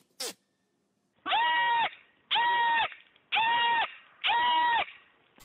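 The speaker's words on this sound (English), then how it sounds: "You are not gonna get me with your goats." Goats bleating: four loud, drawn-out nasal calls, evenly spaced and each lasting over half a second, with no talk around them.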